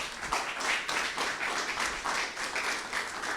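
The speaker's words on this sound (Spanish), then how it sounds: "Den una ofrenda de palmas al Señor." A church congregation applauds during a service, with a dense, steady wash of clapping from many hands that carries on throughout the moment.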